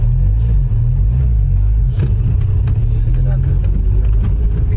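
A Chevrolet Marajó engine runs and revs as the stiff accelerator is pressed, a steady, loud low rumble filling the whole stretch with little change in level.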